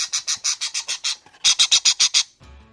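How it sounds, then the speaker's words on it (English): A noisy pet bird squawks in a fast, harsh series of about thirteen loud, close calls in two bursts separated by a short pause, ending with a low thump. "birds can be very noisy, with some being downright irritating"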